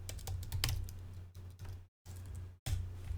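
Typing on a computer keyboard during code editing: a close, steady run of quick clicky keystrokes, broken by two short silent gaps, with no talking.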